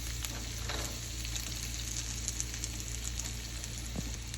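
Potato gnocchi seasoned with black pepper and salt sizzles steadily in a hot pan, a dense, even frying hiss with faint scraping from stirring, close and continuous with no voices.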